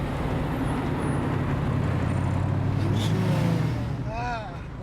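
A Saleen Mustang muscle car engine rumbles as a steady, loud low drone, rising slightly in pitch near the end as it passes or accelerates.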